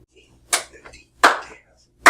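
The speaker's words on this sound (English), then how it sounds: "I just made my thighs clap." Thighs slapped together, three sharp separate smacks roughly evenly spaced, close and loud against near silence.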